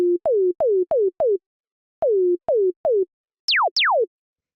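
Ableton Operator synth tone, a series of short notes each starting with a quick downward pitch drop before settling, ending with two longer sweeping falls from high to low; clean and isolated, no voices.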